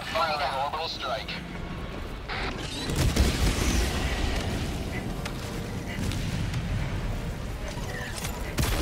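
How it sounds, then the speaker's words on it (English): Fire orbital strike in Helldivers 2 landing with a heavy booming blast and a long rumbling roar after a short stretch of mechanical clatter, loud and sustained over faint game sounds. "Administering fire orbital strike"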